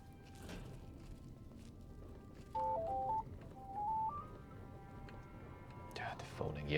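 A telephone in the Fallout: New Vegas video game rings in two short bursts of stepped electronic tones, set against quiet game ambience and a soft rustle, ending with a louder clatter.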